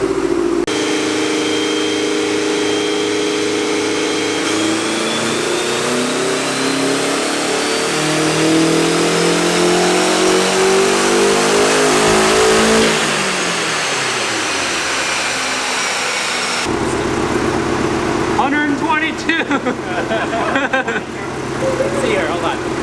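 A quad-turbo Honda Civic engine on a dyno, wastegates set to low boost, revs up in a steady rising pull with climbing harmonics, cuts off sharply, then idles and burbles unevenly.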